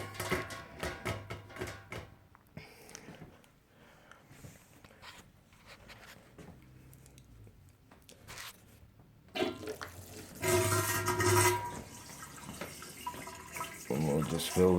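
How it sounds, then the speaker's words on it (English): Liquid running through a hose into a home-brew beer keg, a steady rushing, splashing pour that comes and goes, then swells louder near the end, with a voice talking over parts of it. "we'll fill up a keg"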